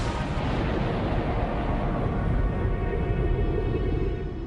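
Continuous deep rumbling roar of comets and asteroids pounding the early Earth, loud and dense like unbroken distant artillery, with no gaps or voices.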